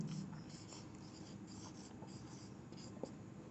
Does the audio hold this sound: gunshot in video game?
no